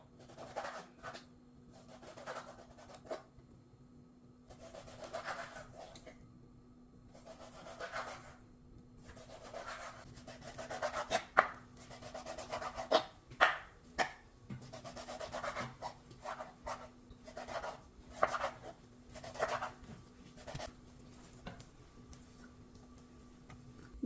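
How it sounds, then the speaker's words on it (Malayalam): A knife cuts bacon into cubes on a board, making repeated short rubbing, sawing strokes in an uneven rhythm, close up and soft, with a few sharper taps of the blade. "ക്യൂബ്സായിട്ട് കട്ട് ചെയ്യുകയാണ്."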